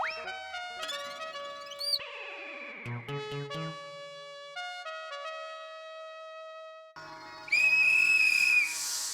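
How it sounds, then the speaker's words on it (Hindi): A whistle blown close to the ear in a comedy scene sounds as a loud, shrill burst near the end, after stretches of tonal musical sound. "ऐसे कान में सीटी बजाइए"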